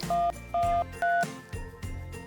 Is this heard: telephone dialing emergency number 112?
yes